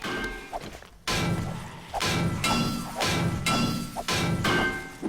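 Repeated heavy impacts as blocks are knocked away in the video game 7 Days to Die, about five loud hammering thuds with crunchy debris in a steady rhythm, close and prominent with no speech.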